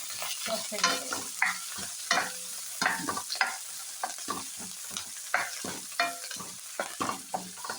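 Chicken fries with garlic, ginger and green chili, scraped and stirred in a pan with repeated spatula strokes over a steady close sizzle, no voices.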